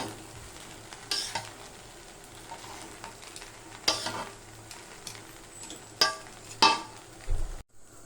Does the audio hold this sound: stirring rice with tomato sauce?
yes